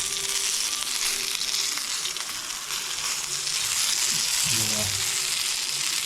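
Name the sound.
pomfret fish frying in pan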